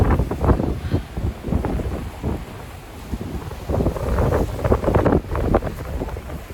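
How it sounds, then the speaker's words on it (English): Strong ocean winds gust into the microphone outdoors, with loud, low rumbling bursts that rise and fall continuously. "Look at how windy it is."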